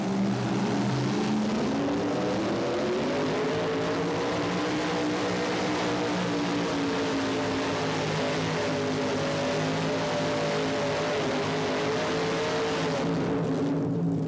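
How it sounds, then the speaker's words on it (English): A Dodge pulling truck with a 582 Keith Black Chrysler Hemi engine roars loudly and continuously through a run, its pitch slowly rising and sustained at high revs without a break. "The 582 Keith Black Chrysler Hemi engine."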